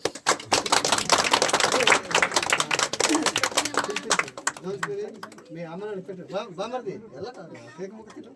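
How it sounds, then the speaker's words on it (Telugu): A burst of clapping from a small group at a birthday celebration, lively and close, fading after a few seconds into people chatting. "గట్టిగా చప్పట్లు కొడదాం"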